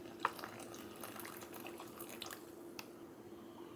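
Very hot water from a Keurig is poured into a freeze-dried food pouch, giving a faint, close trickle with scattered soft drips and splashes and no talking.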